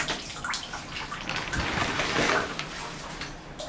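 Water gushes from a bathroom tap at high pressure, a steady broadband rush that swells and holds through the whole stretch, loud and close.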